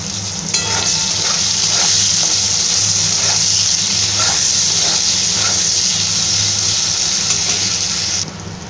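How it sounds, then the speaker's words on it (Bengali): Two medium chopped onions fry in mustard oil for an egg curry, producing a loud, steady hissing sizzle with faint stirring clicks, cutting off just before the end. "পেঁয়াজটা হালকা ভেজে নেব।"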